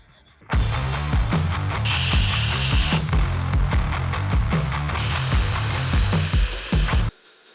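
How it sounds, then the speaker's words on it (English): A metal file works along a kitchen knife blade in repeated rasping strokes, about a dozen in steady rhythm. The strokes are loud and close, with brief pauses between them before the filing stops abruptly. "Back to filing."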